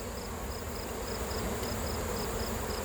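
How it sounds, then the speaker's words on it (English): Honey bees swarming around a hive, a dense continuous buzzing drone filling the air, close and steady throughout with no talk. "I'm going to tap that hive, that cover, and get all the bees to fly back home"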